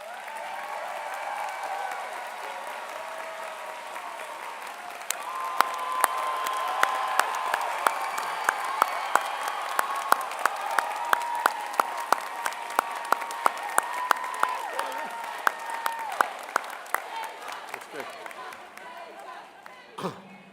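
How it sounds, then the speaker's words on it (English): A ceremony crowd at a college of the arts gives a sustained round of applause for staff members. A dense clapping wash runs throughout with sharp individual claps standing out near the mic, under chatter and talking voices. "I would like to give them a special round of applause."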